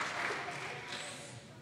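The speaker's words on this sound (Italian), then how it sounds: "Un applauso a tutti" A crowd applauding school prize winners at a science event, a brief wash of clapping that fades slightly.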